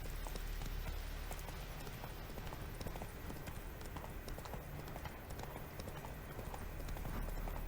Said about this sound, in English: High-speed horse chase.